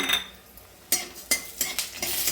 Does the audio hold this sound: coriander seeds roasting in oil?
yes